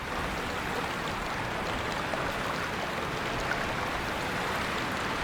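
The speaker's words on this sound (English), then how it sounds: "Just the water sound" Water flowing steadily in Myst, a soft, even hiss of a stream with no breaks or distinct drops, fairly quiet throughout.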